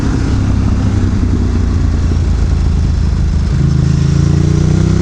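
A Ducati Desert X Rally motorcycle engine pulling from low RPM, a loud, steady, close rumble that rises in pitch toward the end as it accelerates, with no talk.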